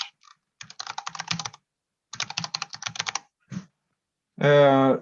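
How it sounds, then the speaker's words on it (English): Rapid clicking keystrokes on a computer keyboard as an email address is entered at a thin-client login screen, coming in two bursts of quick taps with a short pause between, followed by a brief spoken word at the end. "And I will now type my email address"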